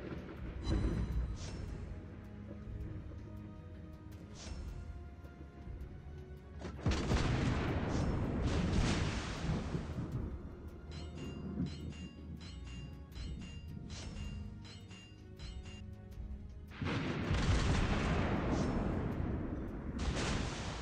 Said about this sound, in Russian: Мы под обстрелом.